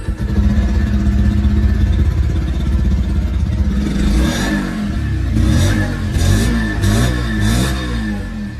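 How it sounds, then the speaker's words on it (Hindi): A 125cc motorcycle's exhaust, recorded close, idling with an uneven rumble and then blipped through several quick revs, each rising briefly before dropping back. "अब दोस्तों मैं आप लोगों को यहाँ पर इसकी जो एग्जॉस्ट साउंड है वो मैं आप लोगों को यहाँ पर सुना दूं"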